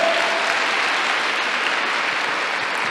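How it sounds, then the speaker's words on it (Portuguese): A church congregation claps in a steady, dense burst of applause at a worship service, loud and even throughout the short stretch, with no speech over it. "se é para aplaudir, aplauda mesmo"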